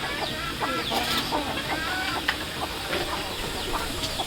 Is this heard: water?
no